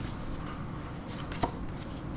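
Tarot cards shuffled and drawn by hand, a soft continuous riffling rustle with one sharper snap as a card comes off the deck, close and quiet.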